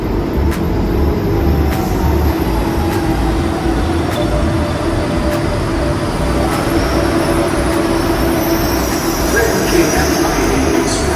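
A KLIA Express airport rail train pulls into the Terminal 2 station with a loud, sustained rumble and a slowly shifting electric whine, heard from close by on the platform.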